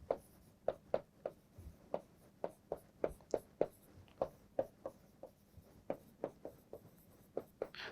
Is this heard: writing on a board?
yes